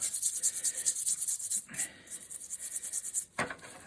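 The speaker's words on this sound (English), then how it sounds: "I shall give it a rub with the steel wool" Steel wool rubs hard against rusty metal pliers after a vinegar soak, a close, bright scratchy scrubbing in rapid short strokes with a brief louder scrape near the end.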